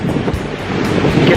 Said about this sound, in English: Shooting the waves both as they come in and also as they recede.